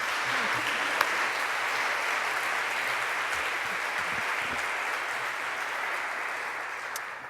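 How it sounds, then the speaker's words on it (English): Sustained applause from a sizable crowd, steady and even for several seconds, with no voices standing out. "How about a round of applause?"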